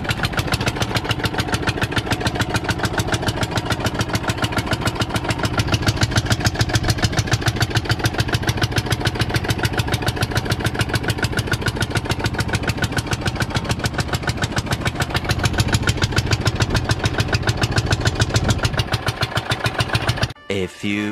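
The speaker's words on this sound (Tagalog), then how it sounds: "paanda rin natin yung bangka ng ating makinista na si Mark." Engine of a small fishing boat on a Philippine coast idling with a steady, even chug that runs loud and close throughout, brief voices over it before it cuts off at the end.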